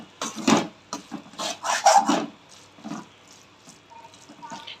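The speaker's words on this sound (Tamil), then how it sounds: "இடையில ஒரு தடவை கிண்டி விட்டுக்கோங்க" A spoon stirs tuna masala in a pan, giving soft, irregular scraping and rubbing strokes, fairly faint and close, in a short burst that trails off into quieter sounds.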